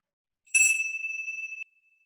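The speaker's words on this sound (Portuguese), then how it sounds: "o sininho aqui." A small bell struck once to open a meditation session, a clear bright ding that rings out for about a second in otherwise near silence.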